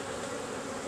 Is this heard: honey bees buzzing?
yes